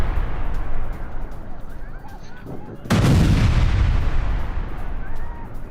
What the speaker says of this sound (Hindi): ईरान के खुजस्तान प्रांत में विध्वंसक बमबारी की गई है